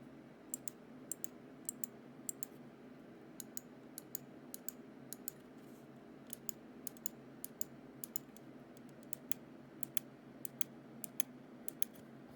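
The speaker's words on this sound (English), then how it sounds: "Moving on to the side buttons. They feel really nice. They're clicky." Crisp clicks from the side buttons of a Finalmouse Starlight Pro gaming mouse, pressed in quick irregular pairs and bursts throughout, close and fairly quiet over a faint steady background hum.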